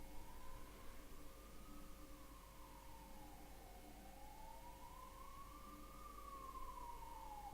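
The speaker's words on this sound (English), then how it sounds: "Here comes an ambulance, guys" An ambulance siren wails steadily in a slow rising and falling sweep, fairly distant and continuous, over a constant low traffic rumble with no one speaking.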